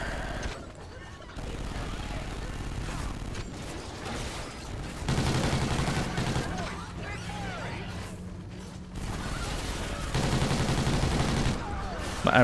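Vector submachine gun fire in the video game Call of Duty Ghosts, sustained rapid automatic bursts rattling in long stretches with brief gaps, loud and dense over a constant game background.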